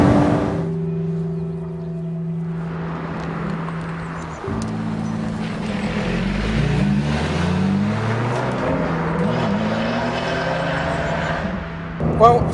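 A Lotus Exige S sports car drives on a public road, with steady engine drone and rising and falling revs as it accelerates and changes gear, heard from close by with speech over it.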